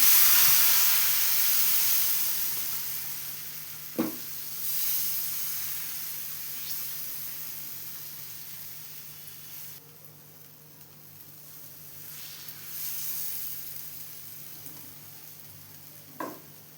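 Millet (sajja flour) dosa sizzles on a hot pan, a steady close frying hiss that slowly fades and swells, broken by a couple of brief sharp clinks.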